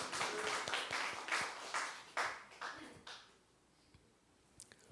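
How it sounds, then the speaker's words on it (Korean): A church congregation claps during a worship service, a burst of individual hand claps in loose rhythm that fades out after about three seconds, leaving a faint room with a few stray taps. "하나님께 영광의 박수"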